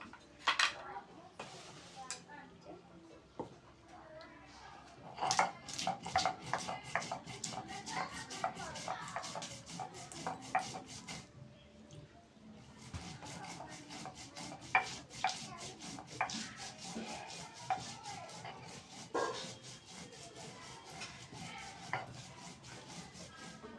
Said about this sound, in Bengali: আগে এলাচ ফল আর জিরেটা বেটে নেব